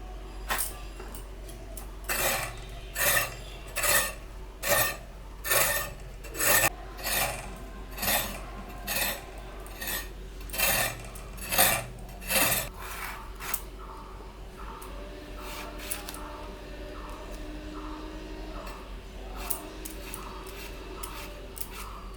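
Ridge gourd being chopped into small pieces with a blade for a fish curry: a steady run of about a dozen crisp, rhythmic cutting strokes, close and clear, which then give way to quieter scraping and handling.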